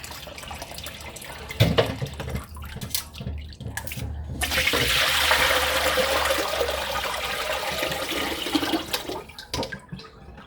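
Tap water runs while raw meat for Mexican posole is washed by hand in a sink, a continuous splashing rush that swells and fades with a few sharp knocks, without talk.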